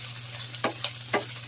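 Kikiam (fish balls) frying in a pan for pancit guisado, three quick scraping stirs over a steady low sizzle and hum, close and moderate in level.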